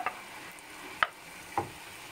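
Onion, garlic and ginger fry quietly in a pan for masala fish, a faint sizzle punctuated by three light taps of a utensil.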